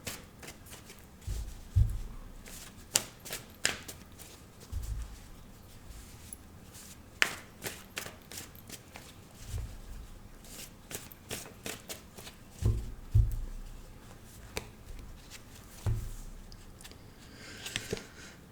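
Oracle cards are shuffled by hand for a daily reading, giving repeated soft riffling bursts and sharp slaps at irregular intervals, close and fairly quiet, with no talking.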